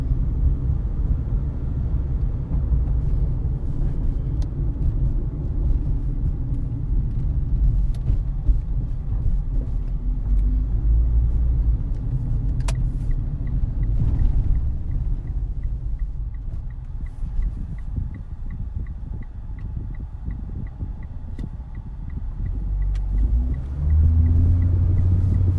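A 2012 Mitsubishi Outlander Sport ES driving with gears shifted manually gives a steady low cabin rumble of engine and road noise. It is close and continuous, with the engine tone climbing near the end.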